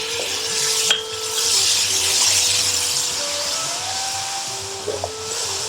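Tomato paste cooking with spices in a hot pan for a chicken dhansak curry gives a steady, moderate sizzle, with a humming tone and some stirring clatter from utensils against the pan.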